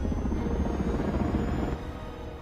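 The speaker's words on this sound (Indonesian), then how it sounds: "mereka pun mulai berangkat menuju ke Mazarov menggunakan pesawat Spearhead." Spearhead aircraft from the film Spectral in flight, a loud steady engine rumble with a rotor-like throb that holds evenly and drops slightly in level near the end.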